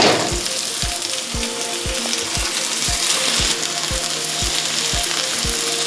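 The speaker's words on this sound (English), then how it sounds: "Continue sauteing that until the onions are nice and soft." Chopped onions sauté in a pan for vegetable lumpia, giving a steady sizzle with a regular series of sharp taps from stirring, close and alone.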